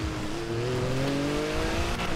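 A car drifts on four-wheel drive in GTA 5: a sustained, steadily rising engine whine stays close and loud, with faint tire noise under it.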